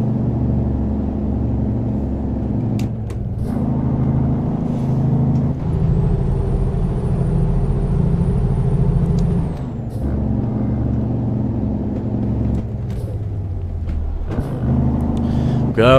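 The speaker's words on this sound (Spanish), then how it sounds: "bajamos con freno motor porque estas curvas, amigos, estas bajadotas, se tienen que hacer con puro freno motor" A Mexican tractor-trailer descends steep mountain curves near Ojuelos, Jalisco on its engine brake, a loud, close, low rumbling drone that pulses steadily throughout, with a brief high whistle in the middle.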